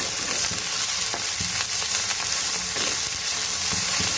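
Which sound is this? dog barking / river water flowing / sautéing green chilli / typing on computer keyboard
sautéing green chilli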